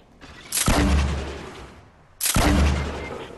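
Two loud, heavy rifle shots from snipers in Fortnite, each a sharp crack with a long booming tail, about a second and a half apart, with no talk over them.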